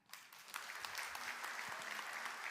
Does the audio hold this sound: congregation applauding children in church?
yes